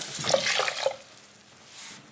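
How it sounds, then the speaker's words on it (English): Quinoa is rinsed under running tap water, a bright hissing splash with a couple of clinks in the first second that fades to a softer trickle. "I rinse the quinoa and I will boil it in the double amount of water."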